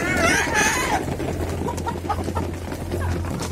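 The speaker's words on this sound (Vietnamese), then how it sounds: "Cái dược liệu này gà ăn quá trời lắm" Chickens cluck and squawk while eating feed mixed with medicinal herbs, a busy noisy flock close by, with a loud burst of calls at the start and a low steady hum beneath.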